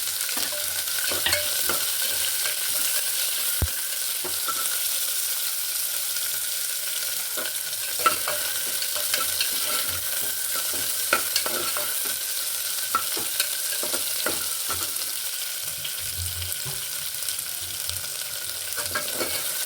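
Onion, curry leaves and coconut frying together in a pan for tomato rice, a steady close sizzle with frequent scraping stirs and a few sharp clinks of the spoon against the pan.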